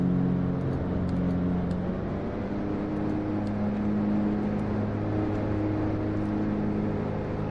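A Cessna 404 Titan twin piston engine drones in cruise in Flight Simulator X, a steady, loud, even hum that stays level without pause or talk.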